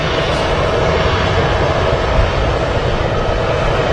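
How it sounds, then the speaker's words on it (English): An EasyJet airliner departs Manchester Airport with a steady, loud broadband engine roar that holds evenly throughout, close and unbroken, with no voices. "We'll follow this EasyJet though on a departure"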